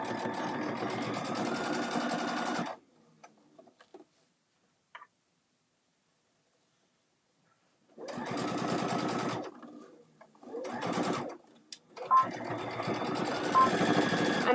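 A sewing machine back stitches a quarter-inch seam on a bag, running in bursts of steady mechanical stitching separated by pauses of near silence.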